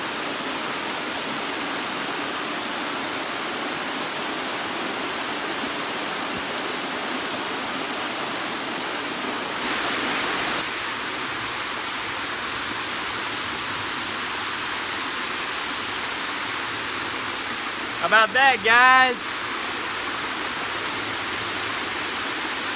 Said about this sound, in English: we're about to head up to this bigger waterfall